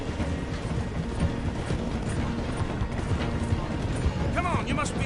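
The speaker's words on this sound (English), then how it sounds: "The train is slowing down to go through the station." Steady rumbling clatter of a train in Red Dead Redemption 2 slowing through a station, a dense rolling mechanical din with a brief squeal near the end.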